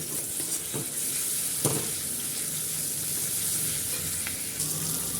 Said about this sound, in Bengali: তেল দিয়ে এবারে পেঁয়াজ দেবো দেখো বন্ধুরা এখানে আমি পেঁয়াজ দিয়ে দিয়েছি